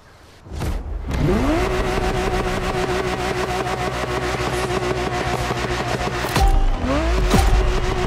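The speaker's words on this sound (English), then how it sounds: "I'm talking about the Ferrari 365 GTB4, also known as the Ferrari Daytona." The engine of a Ferrari 365 GTB4 Daytona in the video game The Crew Motorfest revs up loudly and holds a sustained, close roar with rising and falling gear changes.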